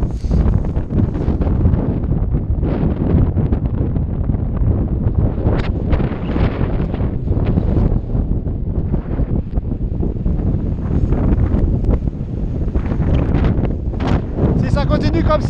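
A strong gust of wind buffets the microphone outdoors during a run, a loud continuous roar with surges, while a person talks over it.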